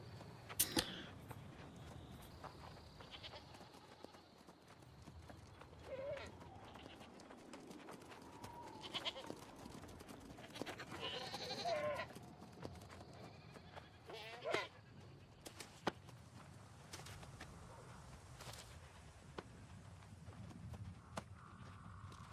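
Faint goat bleats over a noisy game soundscape of hoof clops and scattered thuds, with no talking.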